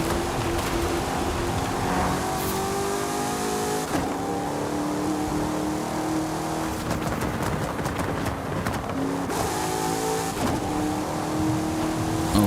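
A Nissan retro race car engine in Forza Horizon 5 revs hard and close, climbing in pitch, dropping on downshifts and pulling back up again, steady and loud throughout.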